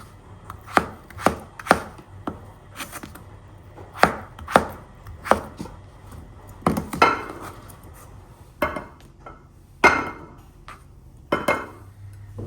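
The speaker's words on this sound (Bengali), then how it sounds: "আলুটাও একটু লম্বা লম্বা চিকন চিকন করে কেটে দিব।" Knife chopping a small potato into long thin strips on a board, a steady run of sharp close cuts in quick bursts with short pauses, no talk.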